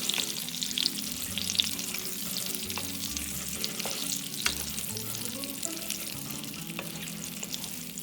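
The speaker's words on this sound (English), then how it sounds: "And then now here goes our potatoes, baby potatoes. And I'm going to mix it now." Baby potatoes fry with turmeric powder in a pan, giving a steady sizzle as they are stirred, with occasional scraping and clinks of the spoon.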